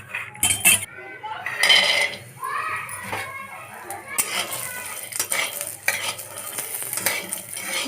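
Almonds fry in a little ghee in a pan while a utensil stirs and clinks against the metal, bursts of scraping and clatter over a low sizzle, with some intermittent background voice.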